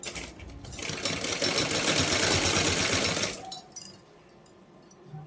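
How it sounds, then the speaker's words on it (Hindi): A sewing machine stitches folded fabric for a small Laddu Gopal dress, a loud continuous whirring run of about three seconds that then stops, leaving quieter handling noises. "अभी यहाँ से भी सभी धागों को और कपड़े को अंदर की साइड फोल्ड करते हुए इस तरह से यहाँ भी सिलाई लगा लेंगे"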